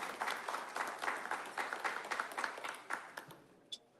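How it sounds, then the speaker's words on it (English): An audience at an indoor diabetes awareness and fundraising event applauds in a room, a soft, distant patter of many hands that fades out after a few seconds. "that is also worth an applause in the room"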